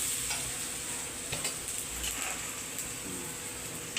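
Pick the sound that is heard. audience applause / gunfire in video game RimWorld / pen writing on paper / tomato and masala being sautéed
tomato and masala being sautéed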